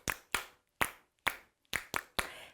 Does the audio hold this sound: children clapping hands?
yes